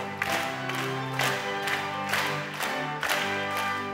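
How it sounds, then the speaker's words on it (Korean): Church congregation at a prayer meeting claps firmly on the beat while singing hymn 545, sharp regular claps over sustained voices and accompaniment. "우리 이 시간 찬송가 545장 힘차게 박수하며 찬양하시겠습니다."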